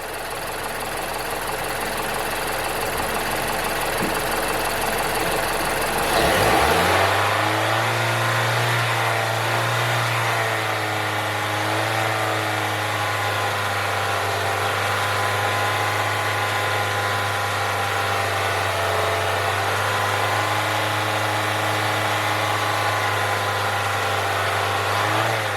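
A Mazda CX7 engine during an oil pressure check, starting at a steady run, then revving sharply and holding a constant high hum for a long stretch without talk.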